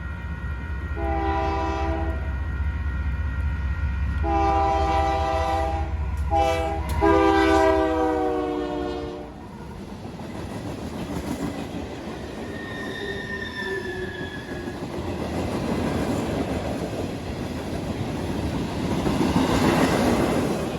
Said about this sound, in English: This second video is also a southbound riprap train